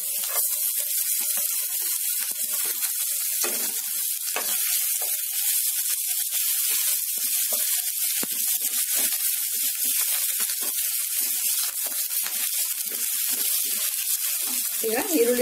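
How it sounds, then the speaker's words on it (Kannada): Ginger and garlic pieces frying in a spoonful of hot oil: a steady bright crackling sizzle, close and even, with small spits and pops scattered throughout and no voices. "ಈ ಎಣ್ಣೆ ಬಿಸಿಯಾಗಿದೆ. ಸ್ವಲ್ಪ ಶುಂಠಿ ಮತ್ತೆ ಬೆಳ್ಳುಳ್ಳಿ ಪೀಸ್ ಇತ್ತಲ್ಲ ಅದನ್ನ ಹಾಕೊಳ್ಳೋಣ"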